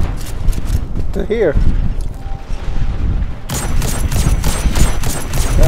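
Grenade blasts and gunfire in the video game Destiny 2, heard as dense, loud bursts of shooting with a sharp boom partway through, mixed under a voice talking.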